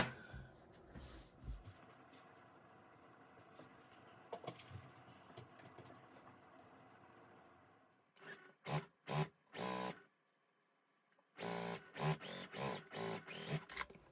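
A sewing machine stitches a K-strip onto a quilt block in two separate runs of rapid, close mechanical stitching, each broken by short pauses, after a quieter stretch of faint handling at the start.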